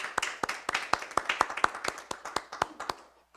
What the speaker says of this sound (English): let's give Curtis a round of applause to say thank you